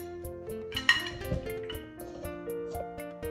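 Armenian potato salad being mixed with olive oil in a bowl, with soft scraping and light clinking of a utensil against the dish, close by and fairly quiet, over faint background music.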